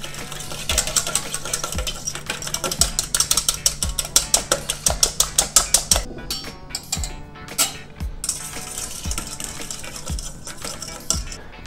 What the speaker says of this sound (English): start by mixing the egg whites